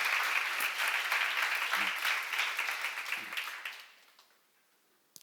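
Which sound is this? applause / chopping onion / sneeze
applause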